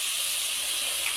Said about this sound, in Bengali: এই যে মশলা কষানো হচ্ছে।